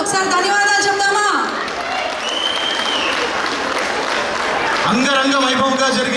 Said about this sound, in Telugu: ఇక్కడ పర్ఫార్మెన్స్ చేసిన వాళ్ళందరికీ మన చప్పట్లతో ఒకసారి ధన్యవాదాలు చెప్తామా